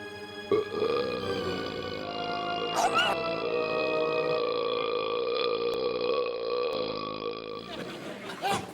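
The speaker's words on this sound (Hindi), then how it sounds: "ये कितनी धमाकेदार डकार मारी आपने" A long, loud, deep burp rumbles on for several seconds after a meal of spicy chole and rice, ending with a brief vocal reaction.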